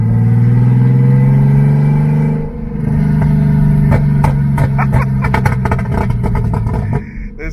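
A turbocharged BMW E36 with no exhaust, driven through a neighborhood, roars loudly with a steady drone, then settles into a sharp, crackling rattle of pops and clatter as the throttle lifts.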